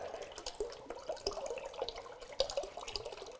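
Water pouring out of a bottle that is not squeezed, a steady gurgling, splashing flow with small irregular glugs, close and moderately quiet.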